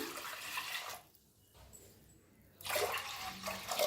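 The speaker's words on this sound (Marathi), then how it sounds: "तर 2 ग्लास या गलसानं पाणी ओतलंय" Water pours from a glass in a steady splashing stream into a pressure cooker holding washed moong dal, pauses for a moment of near quiet, then starts pouring again, close by.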